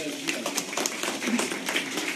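Applause rises from an audience at a Korean political forum as President Moon Jae-in is welcomed to the stage, a dense spattering of many hands clapping steadily with a murmur of crowd noise beneath.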